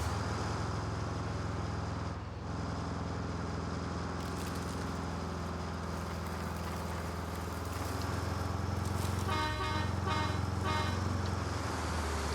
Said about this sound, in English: H is honk. Did not realize that.